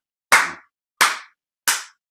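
A group claps in unison during a cup rhythm activity, three sharp, crisp claps spaced evenly about two-thirds of a second apart, with silence between them.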